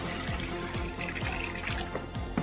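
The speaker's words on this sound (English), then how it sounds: "Take your water, pour your water over into it." Water is poured from a container over seasoned oxtails with garlic powder and black pepper, producing a continuous close splashing and trickling flow with small gurgles for a couple of seconds, and no talking.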